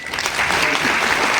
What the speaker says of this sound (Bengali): তো ফিশারি ডিপার্টমেন্টের জন্য হাততালি দিন সবাই